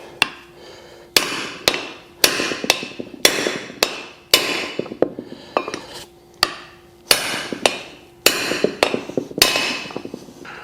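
Wheel studs being hammered into a brake rotor on a classic Wagoneer, sharp metallic blows landing in quick bursts of two to four, with short pauses between them and a ringing tone after some strikes.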